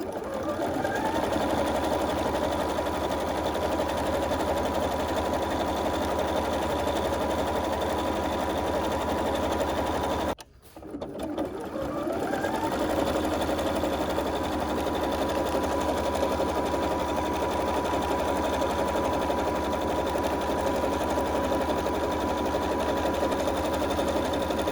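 A bernette 37 sewing machine stitches a decorative border pattern in a continuous fast, even hum of needle strokes, briefly halting near the middle before resuming at the same steady pace, with no voices.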